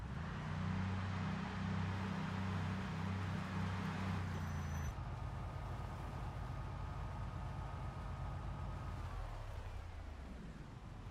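A pickup truck in the zombie survival game Project Zomboid rumbles along with a steady engine drone and road hiss, fairly quiet. A low humming tone drops away about halfway through, leaving a softer, noisier motor sound.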